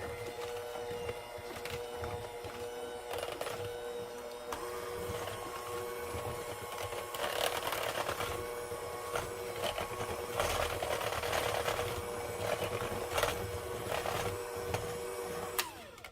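An electric mixer runs steadily for about sixteen seconds, whirring through cheesecake batter with eggs for an Instant Pot recipe, a continuous mid-level motor hum with slight rises toward the end and no talking.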